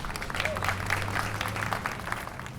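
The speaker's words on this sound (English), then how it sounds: "Please give him a round of applause." A crowd at a community day celebration claps to welcome a church pastor, an even, moderate wash of applause held steady throughout with a faint murmur of voices beneath.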